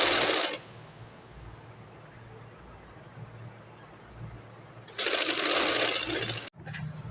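A sewing machine stitches a belt onto a shalwar with a half-inch seam, giving two short bursts of fast mechanical whirring separated by a quiet pause of handling sounds.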